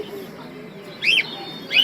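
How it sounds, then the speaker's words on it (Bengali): Two sharp, shrill Indian parakeet calls ring out a second apart over a low background murmur at a bird market, fairly close. "এখানে দেশি টিয়া পাখি আছে"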